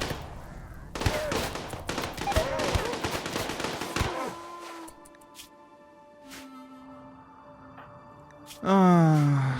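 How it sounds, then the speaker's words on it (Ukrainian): Rapid bursts of gunfire in the RimWorld video game during a mechanoid raid, dense and continuous for the first few seconds, then sparse single shots over tonal game sounds, with a rising synthetic tone at the end. "Що за стрілянина знов?"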